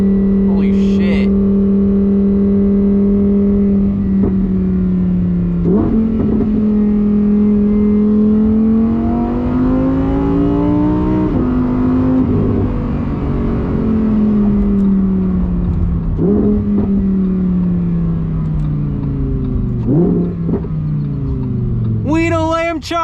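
A Lamborghini Huracan Tecnica engine heard from inside the cabin, droning loudly as it accelerates through several gears, its pitch climbing and then dropping sharply at each shift, with brief exclamations near the start and end.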